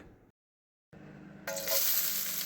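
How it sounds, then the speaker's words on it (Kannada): Chopped onions tipped into hot oil for a palak chicken dish: after a brief pause, a loud, hissing sizzle bursts up and keeps crackling steadily. "ಆಯಿಲ್ಗೆ ಈಗ ಕಟ್ ಮಾಡಿರೋ ಈರುಳ್ಳಿನ ಆ್ಯಡ್ ಮಾಡ್ಕೊಳ್ಳೋಣ"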